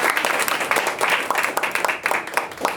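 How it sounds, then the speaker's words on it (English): A meeting audience gives a speaker a brisk round of applause, many hands clapping close and loud in a continuous patter throughout. "So a round of applause for Sylvan Roth."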